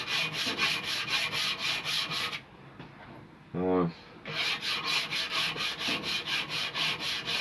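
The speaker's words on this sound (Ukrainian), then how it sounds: "Зараз я прохожуся наждачкою." A knife blade being prepared is sanded by hand with sandpaper: rhythmic back-and-forth rasping strokes, loud and close, stopping briefly midway for a short tonal scrape before the steady strokes resume.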